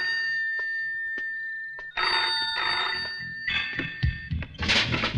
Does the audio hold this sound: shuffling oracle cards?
no